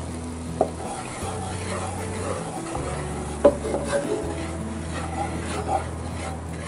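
Flour being stirred into a wild hog and deer meat meatball mixture in a pan, soft scraping and rubbing strokes with a faint sizzle and occasional utensil clinks under a low background hum.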